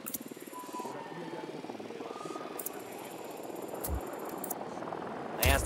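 A drone flying in the video game Ghost Recon Wildlands, a steady buzzing rotor whine held at moderate level, with a few sharp interface clicks and a louder burst near the end.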